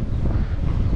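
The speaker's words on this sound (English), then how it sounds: "Wow, it's windy here." Gusty wind buffets the microphone with a heavy low rumble for a brief moment at a viewpoint over the port of Algeciras, no voices.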